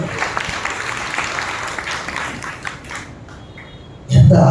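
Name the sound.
church congregation clapping loudly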